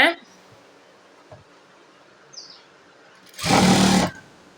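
A sewing machine stitching a blouse runs in one loud, dense burst lasting about a second near the end, after mostly quiet moments with small handling noises.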